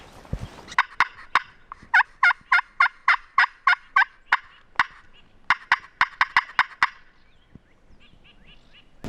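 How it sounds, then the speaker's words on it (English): Wild turkey gobblers gobbling in a dry riverbed in Texas, rapid rattling gobble bursts in a fast series, then more rolls and a few sharp clucks, distinct and fairly close against quiet surroundings. "There's gobblers right below us in this dry riverbed"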